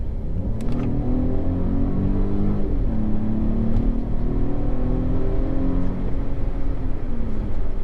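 A DS3 Crossback's small 1.2-litre three-cylinder petrol engine revs hard from inside the car, a steady loud drone whose pitch climbs and dips through gear changes, with no talking.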